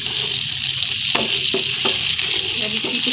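A tadka of spices tempers in hot oil for a village-style whole urad and chana dal, frying with a loud continuous sizzle broken by a few short stirring clinks.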